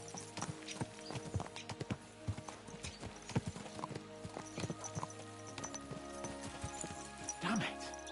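Horses' hooves clip-clop steadily in a video game, a brisk rhythmic patter of many hoofbeats under background music, with a short neigh near the end and someone talking over it.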